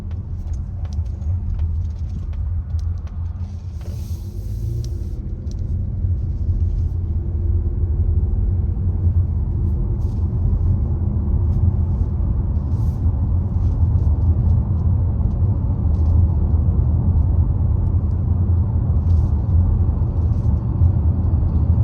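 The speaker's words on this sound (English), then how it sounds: "see if we can hear a difference in the road noise" Continuous low rumble of tires rolling over a recently resurfaced road inside a moving 2023 Mazda CX-50 Turbo, steady and droning, with faint rattles now and then.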